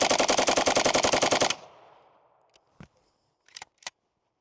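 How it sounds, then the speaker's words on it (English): A Soviet PPSh-41 submachine gun from the WWII era fires one loud, rapid automatic burst of evenly spaced shots, then falls silent as the echo fades, leaving scattered faint clicks and knocks. "ge Spagin, the ppsh-41 was the Soviet answer to the fast-paced combat of the Eastern Front"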